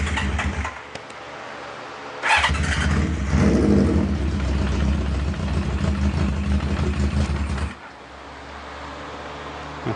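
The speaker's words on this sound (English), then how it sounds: "I'm going to turn the ignition on, make sure our choke is on, and" An old barn-find motorcycle engine, choke on, catches after a short crank and runs with a loud, rough, uneven idle that holds for several seconds, then drops to a quieter idle.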